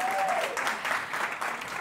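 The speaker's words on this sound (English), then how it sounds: "let's give her a round of applause once again" A round of applause at a live awards show, a brief dense burst of many hands clapping from the audience, steady and moderately loud, with a voice briefly audible at the start.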